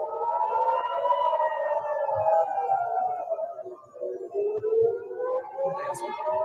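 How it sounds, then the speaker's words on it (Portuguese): Air raid sirens wail steadily in Israel during an Iranian attack, a loud rising-and-falling tone that drifts slowly downward and swells again, sustained through the whole stretch with no talking over it. "Ó, as sirenes."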